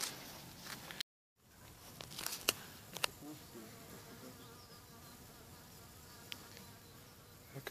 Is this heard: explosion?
no